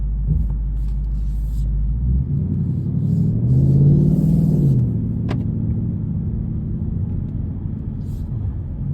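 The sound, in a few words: 2022 Ford Mustang Mach 1 driving in Sport Plus, heard inside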